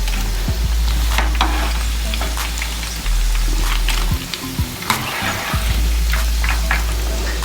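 Chicken nuggets fry in oil, giving a loud, close, continuous sizzle with crackling pops and a few clanks as they are moved, and no talking.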